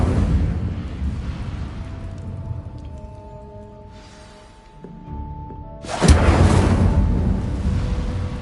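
Incendio fire spell cast in Hogwarts Legacy, a loud burst of whooshing flame that erupts partway through and roars on over steady magical ambience and tonal game music.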